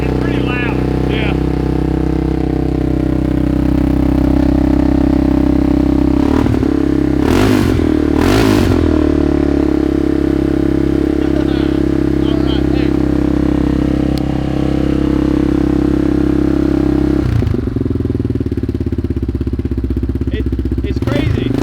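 An abandoned Yamaha Warrior 350 four-wheeler engine runs loud and close, with a rough, clattering idle and a few sharp revs. Voices talk over it.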